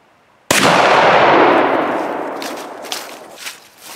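A single loud, close shotgun slug blast fired into a stack of laptops, with a sharp onset and a long decaying roar, followed by faint clattering and metallic rattles as debris settles.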